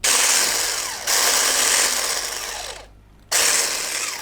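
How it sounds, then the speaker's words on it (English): Electric whisk on slow speed mixing biscuit dough for crunchy coconut biscuits, a steady loud mechanical whirr that cuts out briefly and restarts, close and alone without talk. "I'm going to start my whisk on a slow speed"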